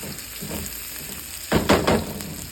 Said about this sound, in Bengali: ইলিশ মাছের ডিম আর ইলিশ মাছ ভাজি করছি বেগুন ভাজি করবো